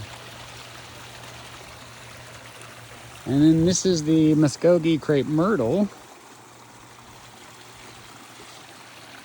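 A small backyard garden waterfall trickles as a steady, soft wash of running water throughout, with someone talking over it partway through.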